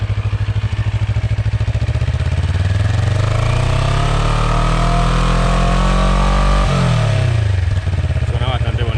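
A CF Moto NK 400 motorcycle engine runs loud and close from the rear, its steady throbbing note climbing as the revs build, then dropping sharply near the end before settling again.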